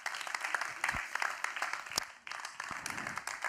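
Applause from an audience at a student solidarity prize ceremony greets the ten finalists, steady, fairly faint clapping from a distance with a few sharper claps standing out.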